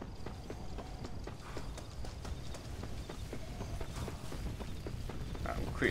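Horse hooves gallop in Red Dead Redemption: Undead Nightmare, a fast, continuous clip-clop rhythm at moderate level beneath game background sound, with a faint voice occasionally present.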